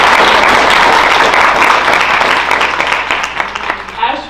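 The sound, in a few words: audience applauding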